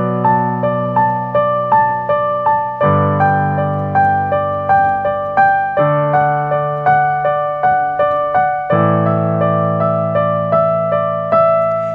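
Arpeggiated synth melody from a song, a steady stream of bright plucked notes over sustained low chords that change every few seconds, close and loud with no talking.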